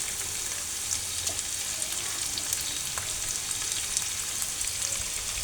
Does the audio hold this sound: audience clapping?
no